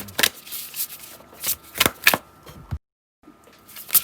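A deck of tarot cards is shuffled in several quick riffling bursts, close and crisp, with a short silent gap before one last riffle.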